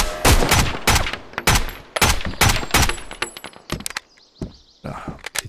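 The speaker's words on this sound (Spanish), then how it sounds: "esta vez sí he escuchado el disparo por donde venía" Gunfire in the video game Road to Vostok, a rapid string of loud, sharp close shots with a few sparser cracks and thuds trailing off near the end.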